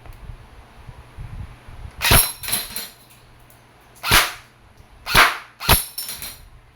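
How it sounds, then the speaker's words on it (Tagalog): Electric E&C M4 CQB airsoft rifle shooting, heard as four separate sharp, close bursts spaced a second or so apart over a quiet, faintly humming background. "Okay, semi-auto. Full auto. Full automatic. Firing."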